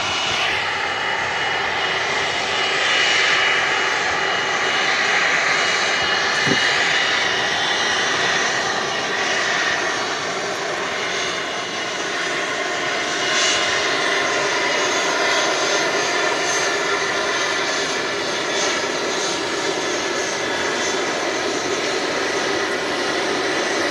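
A passenger jet engine roars steadily at Manchester Airport, a broad continuous whine and rush holding at moderate distance for the whole stretch with no talk.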